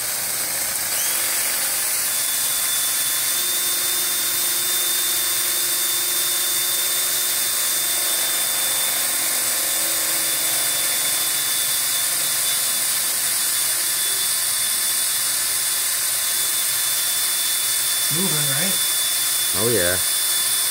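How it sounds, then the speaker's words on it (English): A power drill whines steadily and close up, with a high-pitched tone running throughout and a couple of brief rising revs near the end. "drilling a hole with the most ridiculous drill bit ever"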